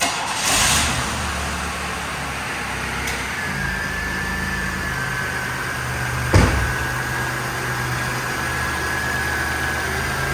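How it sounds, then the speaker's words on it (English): A 1990 Buick Reatta convertible with 391 original miles, hood open, makes a cold start. A brief burst of cranking gives way to a steady, even idle with a faint whine, and a single sharp knock comes midway. "Let's give it a cold start."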